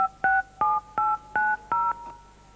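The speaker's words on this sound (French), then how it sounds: "À chaque fois que vous appuyez sur une des touches de votre téléphone, chaque touche émet un son, une note." Telephone keypad tones, each key sounding its own two-note electronic beep. Six evenly spaced presses ring out loud and clear, one after another, with nothing else audible.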